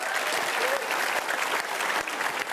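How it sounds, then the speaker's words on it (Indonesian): An audience claps steadily for about two and a half seconds at a talk on the theme of giving, a dense, fairly soft patter of many hands. "Aplaus buat kita semua."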